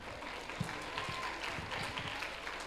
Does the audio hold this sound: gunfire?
no